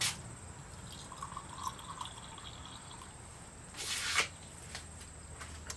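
Water pours and trickles out of a container, a faint, close gurgling stream with a brief louder splashy gush near the end, heard alone.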